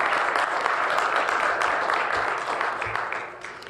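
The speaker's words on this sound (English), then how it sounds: "I know they appreciate your applause" Steady clapping from the audience at a Palo Alto City Council meeting, a moderately loud wash of applause that holds for a few seconds before tapering off at the end.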